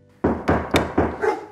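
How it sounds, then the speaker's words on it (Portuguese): A dog barks four times in quick succession, loud and close, each bark a sharp burst with no talking over it. "Esse cachorro não para nunca de latir."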